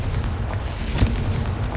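A Confringo blasting spell fires in the Hogwarts Legacy video game, one short booming burst landing midway through a continuous rumbling game backdrop.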